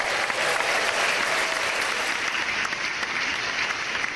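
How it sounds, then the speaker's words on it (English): A round of applause from an audience, dense continuous clapping that stays loud and full throughout with a faint crowd murmur beneath. "Give him a round of applause,"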